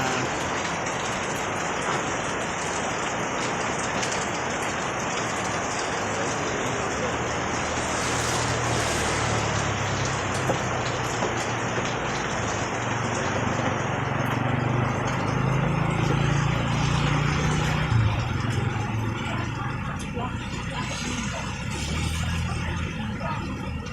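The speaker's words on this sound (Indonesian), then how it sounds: "Hujan deras." Heavy rain pours steadily as a dense, loud hiss with a low rumble beneath and no break in the downpour.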